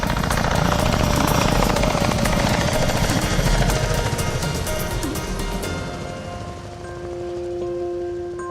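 An air ambulance helicopter flying over enemy territory in Afghanistan, a loud, steady rotor roar with rapid chopping and engine whine that fills the whole clip before easing slightly toward the end.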